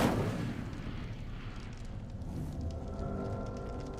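An Incendio fire spell cast in the Hogwarts Legacy video game, a loud broadband burst and roar right at the start that settles into a sustained rumbling fiery crackle.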